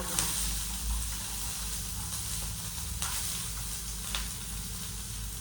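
Capsicum frying in a pan for a paneer pepper dry, a steady close hiss of sizzling oil with faint stirring clicks throughout and no talking.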